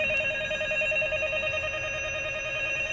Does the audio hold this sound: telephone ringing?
yes